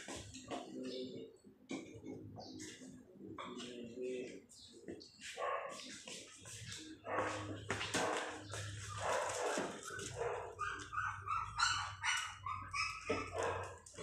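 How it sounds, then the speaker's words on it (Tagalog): Puppies for sale bark in short, sharp yips, scattered between and under nearby voices. "Yan po yung tuta na yan"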